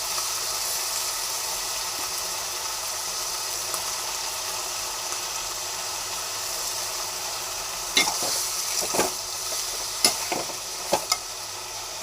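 Mint, coriander and curry leaves being stir-fried in a pan for a mixed chutney, giving a steady broad sizzle throughout, with a few sharp scraping stirs of the spatula toward the end.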